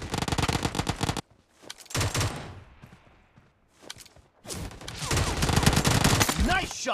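Bursts of automatic gunfire in the mobile shooter Battlegrounds Mobile India, loud rapid volleys at the start and end with a quieter gap of scattered shots between.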